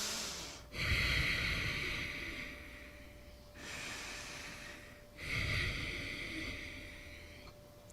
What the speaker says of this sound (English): she would do something called Ujjayi Breath, which sounds like this